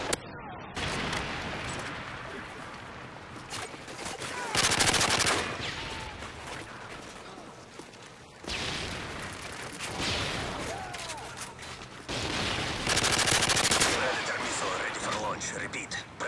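Automatic weapon fire and explosions in a Domination match on the Dome map in Call of Duty Modern Warfare 3, coming in loud sustained bursts separated by quieter stretches.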